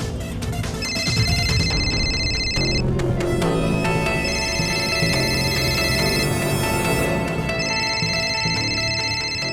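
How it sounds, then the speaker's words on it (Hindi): A telephone rings in repeated electronic bursts over busy, loud background music. "बॉस का फोन है।"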